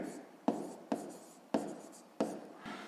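A pen writes on paper while working a maths division, making four or five scratchy strokes in a regular rhythm, close and fairly quiet.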